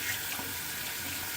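Water running steadily from a tap into a sink, a brief continuous splashing hiss.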